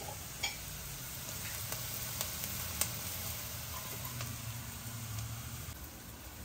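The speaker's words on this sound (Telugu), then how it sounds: "మన ధనియాలు వేగిపోయాయండి." Coriander seeds dry-roasting in a pan for a Telangana-style mutton curry gravy, giving a faint, steady crackling sizzle with a few small pops, with no talk.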